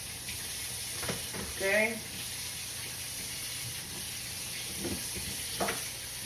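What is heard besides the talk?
chorizo frying in a pan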